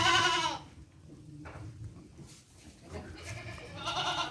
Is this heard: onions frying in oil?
no